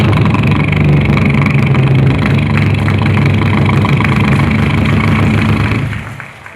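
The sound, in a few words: voice imitating a boat engine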